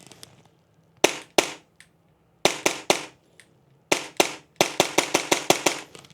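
A Krytac MAXIM9 CO2 airsoft pistol fires semi-auto in sharp, snappy cracks, first a few spaced shots, then a quicker run of about eight closely spaced reports, loud and near.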